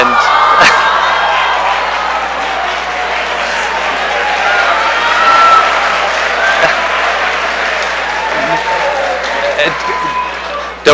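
An audience at a school event cheers and applauds loudly, with whoops and shouting voices rising and falling as a sustained crowd roar.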